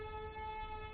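A fire siren wailing far off as a steady held tone, faint and distant against the quiet.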